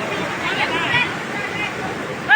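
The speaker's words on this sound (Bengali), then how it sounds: "এই দেখতে পাচ্ছেন পানি আমার দিকে এগিয়ে আসছে।" Floodwater gushes through a broken embankment near shrimp farming ponds, a steady, loud rushing roar that fills the whole clip, while voices talk faintly in the background.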